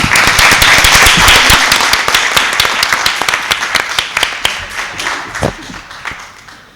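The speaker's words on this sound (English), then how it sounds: "Can we give them a round of applause?" An audience at a Board of Education meeting claps loudly at first, then the applause thins out into scattered individual claps that fade over several seconds.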